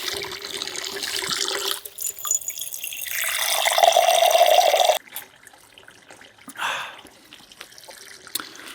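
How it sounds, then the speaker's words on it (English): Natural spring water runs at a low, reduced flow, a close steady trickle and splash that drops off partway through and then resumes more faintly, with no voices. "So this right here is our current flow rate. As you can see, it's substantially less water than we've ever had before."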